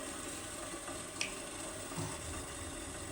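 Nappage and glucose heat in a pan over the fire with a faint, steady sizzle and soft bubbling, plus a small clink partway through. Quiet and continuous, with no voices.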